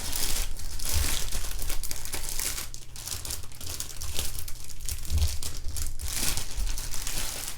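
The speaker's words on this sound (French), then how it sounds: "Je m'excuse pour tous les bruits de déballage qui doivent être insupportables." Packaging is crinkled and torn while a cross-stitch order is unboxed, giving a near, continuous rustle with a few sharper ripping bursts and no voices.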